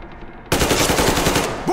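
Rapid automatic gunfire in the game Metro Exodus bursts in after a quiet moment, a loud sustained stream of shots in close succession, with no talk over it.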